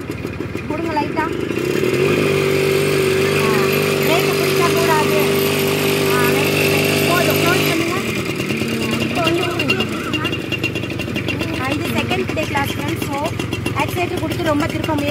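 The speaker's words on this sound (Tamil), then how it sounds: "இப்போ கொஞ்சம் கொஞ்சமாக ஆக்சிலேட் கொடுங்க, கொடுங்க லைட்டாக" Scooter engine throttled gently during riding practice on a road, a steady droning motor hum with a sustained tone that drops away partway through, and an instructor speaking over it.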